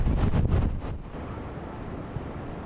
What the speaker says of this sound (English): It's already windy out here now